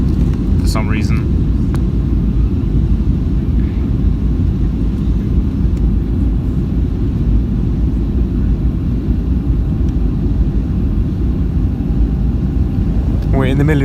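Steady, loud low-frequency cabin roar inside an Icelandair Boeing 757-223 during landing at Keflavik, with engine and airflow noise filling the whole stretch and a few brief faint sounds over it.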